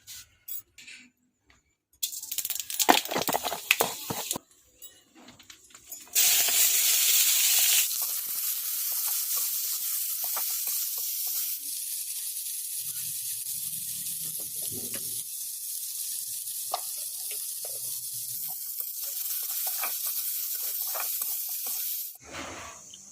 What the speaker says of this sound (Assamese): আৰু এতিয়া ভাজিম আলু, সৰু আলু এইখিনি।